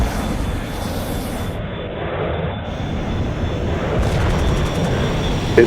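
A MiG-21 fighter plane attacking in a video game, a loud continuous jet roar with rumbling low end that swells slightly toward the end, ending in a brief thump.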